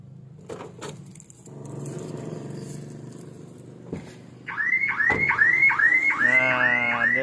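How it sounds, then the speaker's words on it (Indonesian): Alarm on a 2023 Daihatsu Ayla type X with 1.0-litre automatic and immobilizer: after a few faint clicks and a low hum, a loud rising-and-falling electronic siren starts and repeats rapidly nearby. "alarmnya bunyi enggak ya?"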